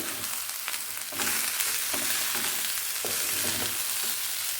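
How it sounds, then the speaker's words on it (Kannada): Tomatoes and chopped vegetables frying in a pan for fried rice, a steady close sizzle broken by regular scraping stirs of the spatula, with no voices. "ಟೊಮೆಟೊ ಹಾಕ್ಕೊಳ್ತಾ ಇದ್ದೀನಿ ಈಗಿದು ಚೆನ್ನಾಗಿ ಬೇಯಲಿ"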